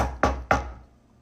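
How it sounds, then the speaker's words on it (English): Two sharp knocks on a house door, about a third of a second apart, close and fairly loud, followed by quiet. "I hear a knock at the door."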